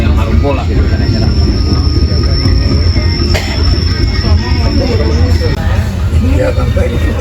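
A passenger train rolls toward Ciroyong station with a steady loud rumble and a high squeal of wheels, while a voice speaks over the noise.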